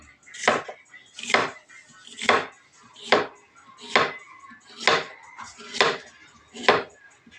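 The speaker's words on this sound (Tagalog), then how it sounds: "Tinatagtad na ang labong" Knife chopping bamboo shoots (labong) on a board, eight sharp, evenly spaced strikes about a second apart, close and clear with no voices.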